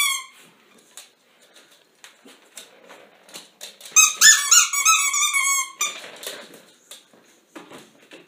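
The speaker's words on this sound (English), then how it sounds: "She's trying to find the squeaker so she can rip it out." A dog chews a new squeaky toy, biting it into a series of sharp high squeaks, brief chirps and one long drawn-out squeal, with soft chewing and mouthing noises in between.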